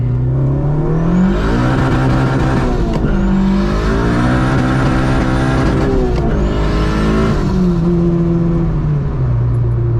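A turbocharged K24 engine in a Honda Civic Si running 8 psi of boost pulls hard in second gear, heard from inside the car at night. The engine drone rises in pitch, drops sharply at each shift, then climbs again, loud and continuous.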